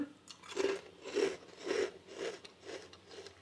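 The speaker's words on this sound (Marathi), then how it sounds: "एक चकली तुम्हाला मी तोडून पण दाखवते" A crisp homemade chakli, a fried spiral snack, is snapped apart by hand. About six crunchy cracks come close up at a fairly regular rhythm, with no voices.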